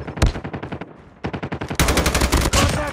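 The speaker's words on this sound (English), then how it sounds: "Sentry gun deployed." A sentry gun in a Call of Duty video game fires rapid, loud bursts of automatic gunfire, a short stuttering run first, a brief lull, then sustained heavy fire to the end.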